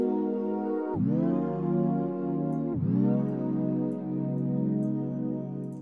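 A Serum synth UK garage chord with bend plus and warp mode sustains as a rich, layered tone, sharply pitch-bending down then sweeping back up twice, clean and without talk.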